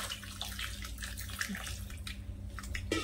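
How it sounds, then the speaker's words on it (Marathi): Water poured over sprouted moth beans in a bowl, a steady close gushing splash running continuously for about three seconds without pause. "आता यामध्ये ना परत पाणी घालून घेऊया."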